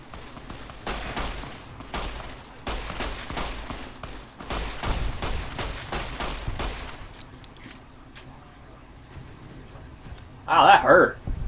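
Gunfire in Fallout New Vegas, rapid volleys of shots rattling in bursts for several seconds, then fading, with a brief voice near the end.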